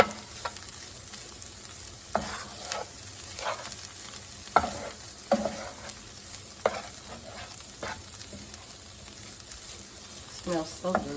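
Sweet corn, garlic and bacon fry in seasoned oil in a skillet, with a continuous sizzle and repeated scraping stirs roughly every second. Someone talks over it at times.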